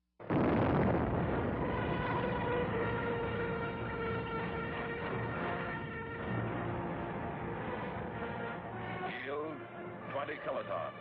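Operation Tumbler-Snapper nuclear test shot 4, a 70-kiloton airburst at 1,050 feet, roars in as a sudden loud blast followed by a long, sustained rumbling roar, with a voice speaking over it.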